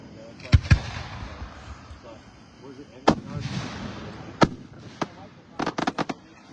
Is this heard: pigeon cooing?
no